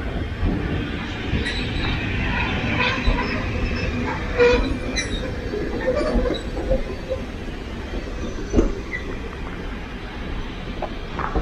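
A steam train hauling five carriages rolls past, with a steady rumble of wheels on rail, occasional squeals and clanks, loud and close for the whole stretch.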